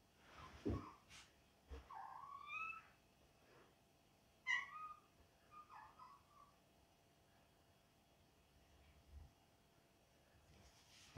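A cat meows several times in short, faint calls spread across a quiet room, with soft breathing-like noises and small bumps between the cries.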